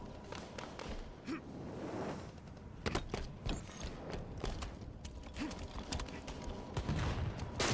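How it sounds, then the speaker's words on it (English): Sniper rifle reloading in Halo 5: Guardians beta multiplayer, heard as a string of close mechanical clicks and ratcheting clacks over a dense, busy game mix with distant gunfire. "Reloading sniper rifle."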